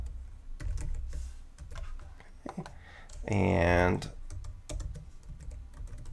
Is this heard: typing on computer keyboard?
yes